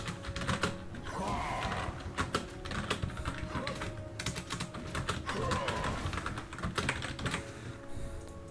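Loud, rapid computer keyboard typing with dense clattering keystrokes throughout, close to the mic during a League of Legends ranked match, with a faint voice underneath.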